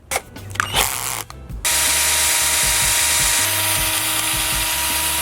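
A power drill runs in short bursts, then whirs steadily and loudly for several seconds, close by, while drilling on a Nissan 370Z NISMO for custom lights.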